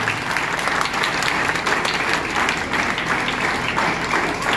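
An audience at a religious ceremony applauds loudly to welcome a guru. The dense, sustained clapping continues evenly throughout, with no talking.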